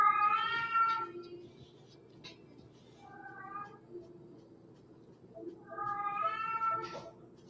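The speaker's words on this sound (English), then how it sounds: "a cat that meows too loud" A house cat meows loudly three times at close range, with drawn-out, wavering cries separated by pauses of quiet.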